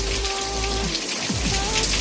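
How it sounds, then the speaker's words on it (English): Heavy rain pours down in the Serbian countryside near Pozarevac, a dense, loud and steady hiss of drops hitting surfaces, with no voices. "Haven't seen so much rain in Serbia for a while."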